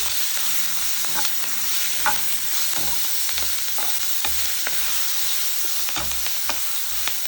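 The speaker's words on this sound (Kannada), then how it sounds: "ಇಟ್ಕೊಂಡಿರೋ ಹುಣಸೆ ಹಣ್ಣ ಇದಕ್ಕೆ ಹಾಕ್ಕೊಳ್ಳೋಣ. ಈಗ ಜೊತೆಗೆ ಮಿಕ್ಸ್ ಮಾಡ್ಕೊಳ್ಳೋಣ." Ridge gourd with tamarind is stirred and fried in a pan, a loud constant sizzle under repeated scraping strokes of a spoon and low clunks against the metal; no talking.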